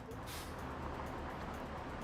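Bus noise from a rider stepping off, a continuous broadband rumble of engine and traffic with a burst of hiss like an air brake release early on, steady and fairly close throughout.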